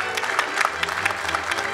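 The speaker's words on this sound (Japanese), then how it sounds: "どうぞ皆様今一度盛大な拍手をお送りください" Sustained applause fills the hall at the JAPANTEX 2018 interior design competition award ceremony, a steady crowd of clapping with a faint low hum underneath.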